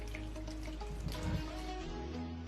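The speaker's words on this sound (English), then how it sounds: "I'm adding real water here." Water is poured into a painted flat earth model, a close, steady trickling and splashing stream over a low hum, faint and alone without talk.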